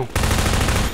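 Half-Life 2 gunfire in a burst of rapid shots, loud and close, starting abruptly after a short lead-in and continuing as a dense crackling volley.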